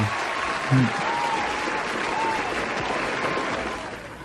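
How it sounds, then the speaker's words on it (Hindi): A burst of clapping from several people, steady and fairly close, continuing for a few seconds with a brief voice near the start. "मैं अपने लिए तालियां बजा लूं?"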